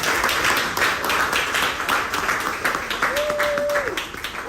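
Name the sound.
audience clapping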